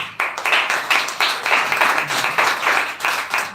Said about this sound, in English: Please again give a huge round of applause for him.